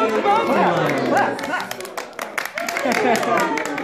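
A group of people clapping at a casual family gathering during a nativity skit, the claps scattered and close under lively overlapping chatter and excited voices.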